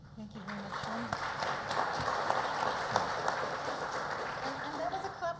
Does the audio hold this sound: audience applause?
yes